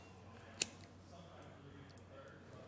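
Wire cutters give a single sharp snip while cutting butt connectors off trailer brake-controller wiring for a 2018 Jeep, with quiet room tone before and after.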